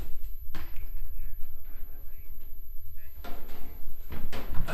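A cabinet in a museum collection with specimen drawers is opened, giving a few knocks, clunks and sliding scrapes over steady background hum, with no talk over it.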